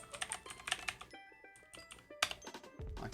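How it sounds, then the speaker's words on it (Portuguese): Someone types on a computer keyboard while coding, bursts of quick, close clicks broken by a brief pause, with a few louder key strikes and a soft thump near the end. "Ele nem deixa eu digitar o navegador."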